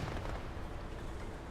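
An SPAA anti-aircraft gun in War Thunder fires a short burst, heard as a dense, continuous rumble of rapid shots that blur together at steady loudness and close range.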